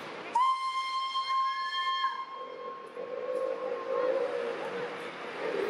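The Darjeeling toy train on the Batasia Loop spiral railway sounds a long steady whistle, followed by the faint rumble of the train moving along the mountain track.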